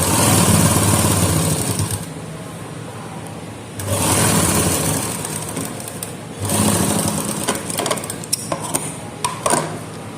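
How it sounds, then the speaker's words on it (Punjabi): Sewing machine running in three long stitching bursts along a salwar hem, a loud steady whir with short pauses between runs and a few clicks near the end, with no voices. "ਇਸ ਤਰ੍ਹਾਂ ਫਿਰ ਆਪਾਂ ਨੇ ਸਿਲਾਈ ਲਗਾ ਦੇਣੀ ਹੈ"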